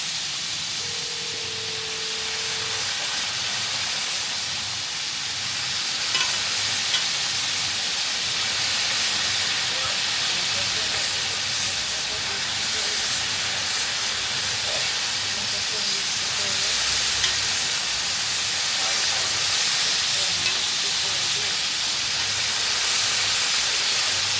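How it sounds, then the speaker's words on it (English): Fried chicken frying in rows of pots in a busy Jamaican kitchen, a steady loud sizzling hiss running throughout with faint voices beneath. "there's some nice fried chicken going on over here"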